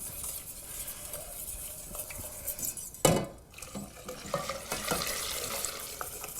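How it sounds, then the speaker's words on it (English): Hot milk is whisked into a thickening white sauce in a pan: a close, steady scraping whisk with wet sloshing and a sharper clatter partway through, no voices. "now I just want to slowly add the hot milk, and you'll see the whole thing becomes a really nice, thick white sauce. Add it whisking"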